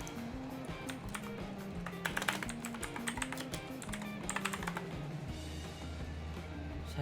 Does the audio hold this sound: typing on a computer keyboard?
yes